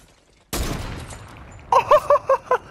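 One loud gunshot in Fortnite cracks sharply and then decays, followed by a quick series of short tonal game pings.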